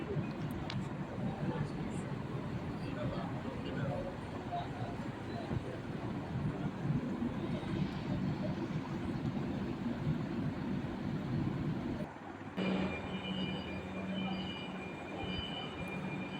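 Metro train on a Kolkata-area line pulling into a station, a steady broad rumble and rail whine that drops off sharply near the end as the train halts, with a faint tonal squeal afterward; no speech over it.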